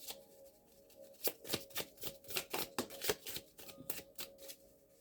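Oracle cards are riffled and shuffled in a quick run of crisp, papery flicks and slaps, then drawn, heard close and fairly soft with no voices.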